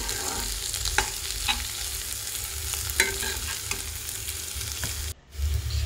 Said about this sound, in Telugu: ఇప్పుడు కూరలోకి ఒక 1/2 స్పూన్ గరం మసాలా పౌడర్ వేసుకొని ఫ్రై చేసుకోండి